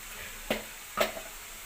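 Cumin and coriander powder sizzle faintly in hot oil in a pan for egg fried rice. A soft, steady frying hiss is broken by two quick metallic taps of a spoon stirring.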